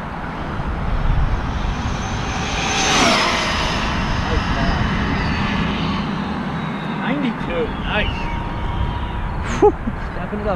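An engine at full throttle during a speed run, a loud sustained roar that swells and then fades, with people talking and calling out over it and a few sharp passing sweeps near the end.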